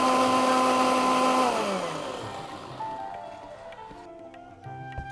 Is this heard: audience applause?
no